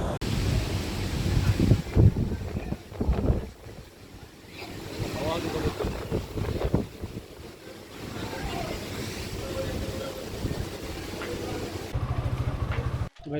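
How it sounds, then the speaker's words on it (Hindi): Strong gusty wind roars over the microphone while riding a Suzuki Gixxer SF motorcycle on the road from Delhi toward Haridwar, loud and buffeting, surging and easing in heavy waves throughout. "हवा बहुत ज़्यादा तेज़ चल रही है।"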